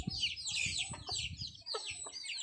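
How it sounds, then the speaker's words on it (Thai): Breeding hen of a fighting chicken line clucking repeatedly outdoors in a rural yard, a steady run of close, moderately loud clucks with other fowl sounds around. "ข้างหน้าแม่พันธุ์ไก่ชนของลุงบ่าว"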